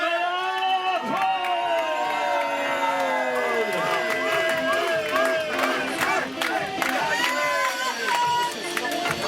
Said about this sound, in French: c'est les derniers applaudissements, tous ensemble, attention, fais du bruit pour Alain Paul